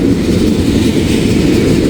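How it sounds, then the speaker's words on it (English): A freight train hauling loaded ethanol cars rolls past in the rain, a loud, steady, close rumble of wheels and rail noise filling the whole stretch without a break. "This will be my final train for today."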